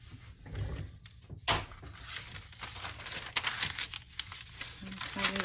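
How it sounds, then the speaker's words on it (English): Craft material is ripped away by hand with crinkling and tearing bursts, close and uneven, while a person talks over the rustling. "Let me just kind of rip this away."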